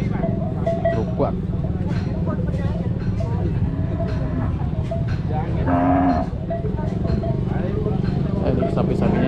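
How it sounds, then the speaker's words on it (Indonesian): White cattle mooing amid a busy outdoor crowd, with steady background chatter and traffic noise; several low moos rise over the din, one prominent near the middle. "Ini sapi-sapinya seperti ini."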